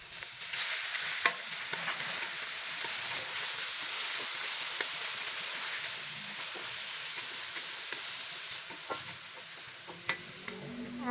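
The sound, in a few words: squid sautéing in a pan with onion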